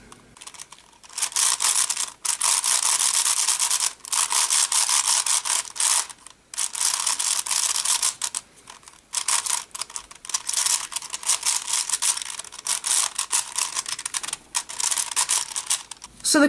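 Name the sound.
turning a Shengshou 5x5 twisty puzzle cube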